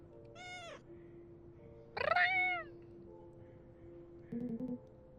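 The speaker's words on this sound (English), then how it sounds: "So this is how a cat looks." A dark-furred cat meows twice up close, the second call louder and more drawn out, over a quiet steady hum, followed by a short run of soft low chirping sounds.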